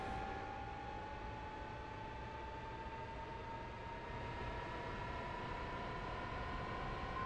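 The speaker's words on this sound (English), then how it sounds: "Engine is at idle between 2400 and 2600 RPM" A simulated MiG-15bis jet engine settles into idle, a steady whining turbine tone that rises slightly in pitch over a constant airy roar, unbroken and with no talking.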